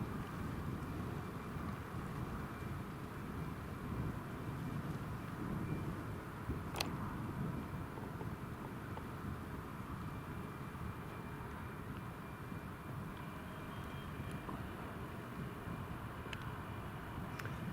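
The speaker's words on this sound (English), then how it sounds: "Right, the TUI is pushed back. You can hear the engines have started." Distant, steady roar and whine of a TUI airliner's engines running after pushback at Newcastle International Airport, a broad continuous drone softened by wind noise.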